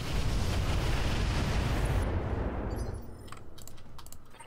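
Heavy, roaring gunfire fills the game Roguepoint, a dense loud blast of sustained firing that gradually thins into scattered crackling shots.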